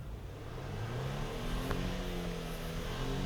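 A 2021 Volvo V90 Cross Country engine revs steadily with rising and falling pitch as its wheels spin on ice, heard moderately loud and continuous from inside the car.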